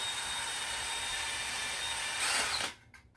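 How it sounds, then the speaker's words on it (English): A DIY spray paint mixer spins an aerosol can with a marble inside, giving a steady high whirring rattle that swells briefly and then cuts off abruptly, leaving faint trailing rattles. "You can hear the marble continuing to spin after you finish."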